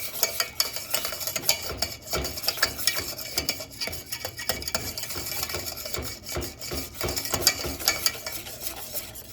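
A spoon stirring vanilla extract and powdered sugar in a pot on the stove, a steady close scraping and rubbing with irregular clinks against the pan, continuous with no talking.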